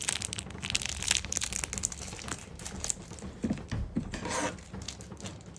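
A taped One Piece trading card box is opened close up with soft crinkling, rubbing and tearing of tape and cardboard, a few sharper handling taps standing out, and no talking.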